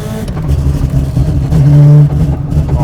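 A Mazda RX7 race car with a 26B rotary engine and dog gearbox accelerates in a loud, close rasp, with a sharp rising tone near the end before briefly easing off.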